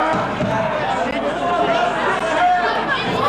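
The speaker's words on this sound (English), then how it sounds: "Quite a noisy crowd here at Club Marconi." Noisy crowd at a wrestling show at Club Marconi, a constant busy babble of many voices and shouts with scattered thuds, while a commentator talks over it up close.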